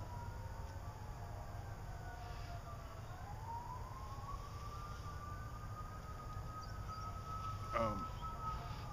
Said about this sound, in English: Hear those sirens.